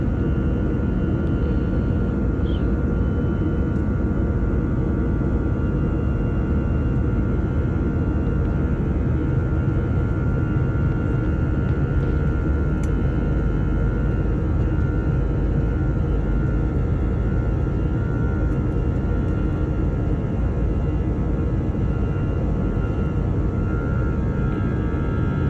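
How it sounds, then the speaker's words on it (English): Frontier Airlines Airbus A321-200 taking off from Chicago O'Hare, a steady loud broadband cabin roar of engines and airflow with deep low rumble, continuous throughout without talk. "Alright, so it is takeoff time."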